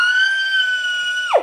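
A person imitates a girl's scream with one long, loud, high-pitched shriek that holds steady and then drops away sharply at the end.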